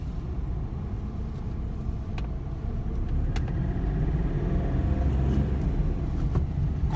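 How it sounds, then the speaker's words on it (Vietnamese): A 2008 Chevrolet Spark on a test drive, its engine and road rumble forming a steady low drone from inside the car, with a few faint clicks and no speech. "Đây mình sẽ chạy thử cho quý vị các bạn xem đây"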